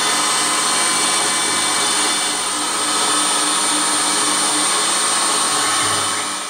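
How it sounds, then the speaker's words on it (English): A 6mm straight-flute carbide end mill facing the end of a clamped workpiece on a mill, a loud steady high whine and cutting hiss running continuously with a slight dip midway, no voices. "run a 6mm street flute carbide end mill along"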